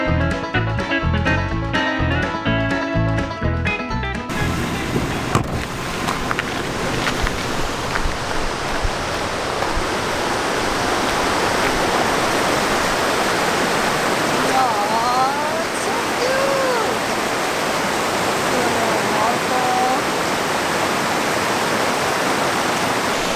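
A river flowing near a forest camp spot, a broad steady rush of water heard continuously, after a brief burst of music at the start, with faint bird chirps over the flow.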